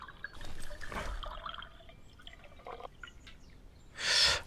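Drinking water in the survival game Deadside: soft liquid gulping and splashing, a faint sloshing passage early on, then a louder brief burst of pouring near the end, fairly quiet overall.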